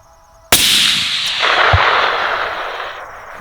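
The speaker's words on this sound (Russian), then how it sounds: "на дистанции 660 метров точным выстрелом взят трофей" A single sharp, loud rifle shot fired at a roe deer from 660 meters, cracking suddenly after near silence and followed by a long, decaying rumble echoing across open Ural terrain.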